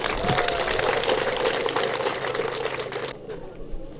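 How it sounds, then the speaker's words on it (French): Audience applause for a chef de terre at a ceremony, a dense steady wash of clapping from a crowd that drops off sharply near the end. "je vais vous demander d'applaudir pour le chef de terre."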